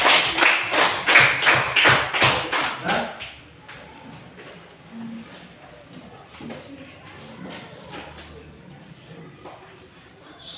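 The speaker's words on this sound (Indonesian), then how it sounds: "kita tepuk tangan" Students in a classroom clap together in a quick, even rhythm of about a dozen loud beats. The clapping stops after a few seconds, leaving quieter room noise and faint voices.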